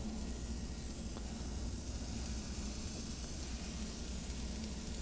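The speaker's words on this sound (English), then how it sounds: "Listen to the sizzle already." Meat sears in a nonstick pan set directly on a pit, making a steady, even sizzle and hiss throughout, close and moderately loud, with no talking.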